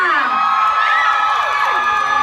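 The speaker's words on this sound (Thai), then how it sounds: "ขออีกทีได้ไหมขอเสียงกรี๊ดได้ไหมกับวอเตอร์บอยค่ะ" A live audience at a fan event for the Thai boys' love series Waterboyy shrieks and cheers loudly in a sustained, high-pitched wave of screaming.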